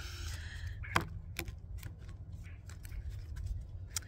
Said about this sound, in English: now I started shuffling the cards again